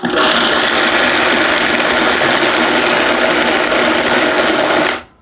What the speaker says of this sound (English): I'm going to flick my Vitamix on to low to start.